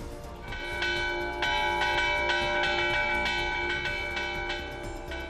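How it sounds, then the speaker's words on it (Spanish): Hand-rung church bells peal loudly and continuously, overlapping strikes ringing out in a steady, resonant cascade with no voices. "el toque manual de campanas"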